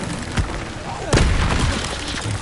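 An Incendio fire spell cast in Hogwarts Legacy erupts as a loud burst around the middle, following a smaller pop earlier, with a voice speaking over a busy game-combat background.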